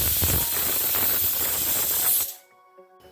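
A pressure cooker cooking dal vents steam through its whistle, a loud, close, continuous hiss that stops abruptly, leaving near silence with faint tonal ringing.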